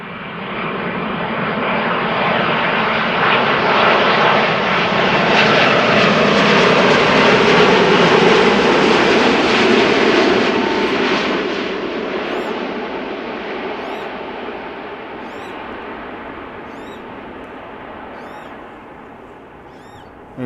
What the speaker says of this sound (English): this is a 787-10 Dreamliner arriving from New York JFK